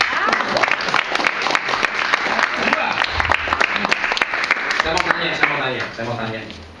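Applause from a seminar audience at a service-training session, a dense steady patter of many hands clapping close and loud, with voices mixed in and the clapping thinning out toward the end.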